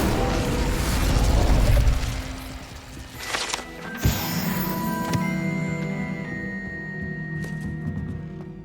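A fire spell cast in Hogwarts Legacy gives a sudden burst with a crackling whoosh, set against a busy game soundscape with mechanical clatter.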